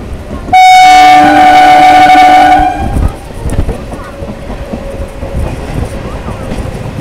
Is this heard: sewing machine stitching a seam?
no